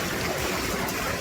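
Water flows and splashes down continuously in a water cycle display in Singapore, a steady, fairly loud broadband wash with no pauses and no voices.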